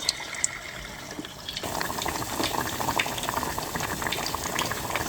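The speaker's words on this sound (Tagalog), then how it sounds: "2 beses natin yan ipiprito para talagang malutong talaga siya" Chicken pieces frying in hot oil, a bubbling sizzle that swells suddenly partway through and then holds at a steady, moderate level close by.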